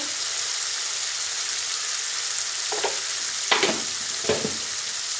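Cabbage and peas sauté in a pan with masala and oil, giving a steady bright sizzle, punctuated by a few sharp scraping stirs of a spatula toward the end.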